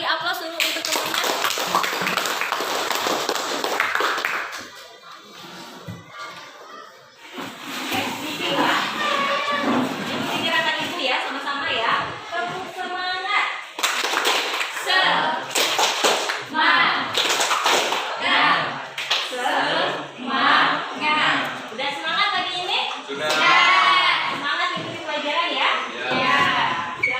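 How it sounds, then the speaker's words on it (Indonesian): Children in a classroom applaud a classmate with a sustained burst of clapping. The clapping follows a teacher's voice and mixes with young voices and light thumps. "Beri aplaus dulu untuk temannya"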